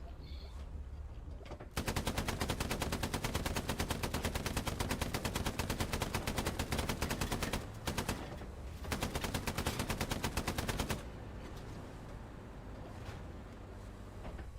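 Machine gun fire in the WWII video game Hell Let Loose: long, rapid, loud bursts of automatic fire rattle on for several seconds, break briefly, then resume before stopping, leaving low background noise.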